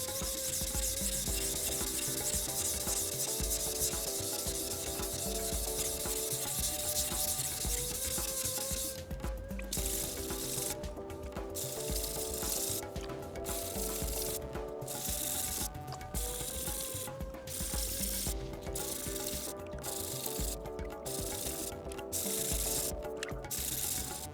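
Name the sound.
sharpening SPG STRIX steel knife blade on a whetstone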